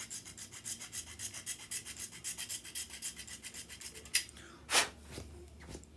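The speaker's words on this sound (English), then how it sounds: "Don't mind me just sanding my problems away." Steady rhythmic scraping strokes, close and fairly quiet, followed by a few sharper rasping swipes near the end.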